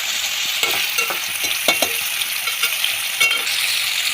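A spoon stirs marinated paneer frying in oil in a pan for veg biryani, giving a steady sizzle broken by repeated scraping strokes at an irregular rhythm; no talking.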